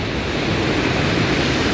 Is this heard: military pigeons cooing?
no